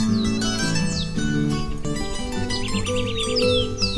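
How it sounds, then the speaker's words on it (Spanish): House wren singing a bubbling, cascading song of rapid descending trills, repeated several times over a dense, steady background of other forest birds and low tonal hum. "Estamos escuchando el gorjeo burbujeante y en cascada de una especie de cucarachero"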